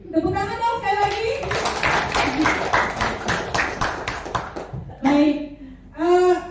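An indoor audience at a school training session bursts into a steady run of hand claps lasting several seconds, with a speaker's voice just before and briefly after.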